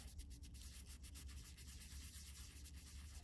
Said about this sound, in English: We're just going to lightly sand it